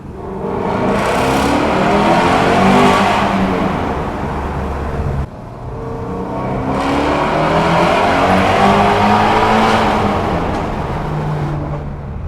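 A 2017 Ford Shelby GT350R revs hard inside a tunnel, its loud roaring engine note echoing off the walls in two long sustained pulls with a brief dip between, no talk.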